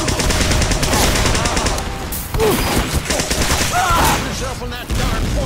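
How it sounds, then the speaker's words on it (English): Blutsauger syringe gun from Team Fortress 2 firing in a rapid, continuous stream of dense mechanical shots that runs nearly the whole time, with someone talking over it. "if you're very good at aiming with the syringe gun, it's very handy"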